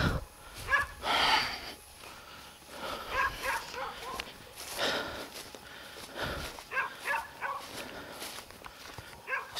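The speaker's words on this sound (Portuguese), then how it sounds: "Pode ver que o latido dos cachorros vão ficando mais distante aí pra vocês" Dogs bark sporadically in scattered bursts, sounding somewhat distant, amid rustling and footsteps; no speech.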